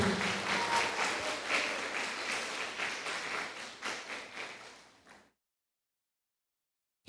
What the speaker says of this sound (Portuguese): Pode bater palmas que é para o Senhor